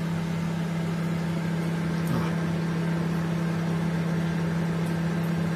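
A microwave oven running on high power, a steady low electrical hum with a constant fan-like whir, even and unbroken throughout, with no voices.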